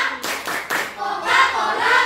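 Children clapping in rhythm for the Tepuk Coca-Cola clap game in a classroom ice-breaker, a few quick bursts of claps followed by a brief louder stretch of hand sounds.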